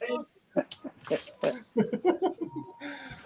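A pup whimpers and yips among people on Main Street at the Sturgis 2022 motorcycle rally, with thin whines mixed through nearby chatter and laughter.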